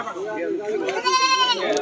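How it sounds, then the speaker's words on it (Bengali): Goats bleat repeatedly at a crowded rural livestock market, with loud nearby calls mixed with voices of people talking throughout. "এগুলো সবই পাঠি ছাগল।"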